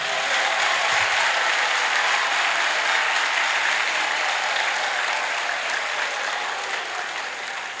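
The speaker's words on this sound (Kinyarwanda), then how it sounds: "Umwami ahabwa amashyi muri iri teraniro." Sustained, dense clapping from an audience at a church assembly, a steady roar of many hands that carries on at full strength and tapers slightly toward the end.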